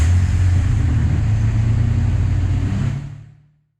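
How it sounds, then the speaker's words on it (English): A Ford OBS pickup truck's engine runs with a steady, loud low rumble close by, holding even for about three seconds before fading away as it is shut off. "So I thought I'd back the truck out"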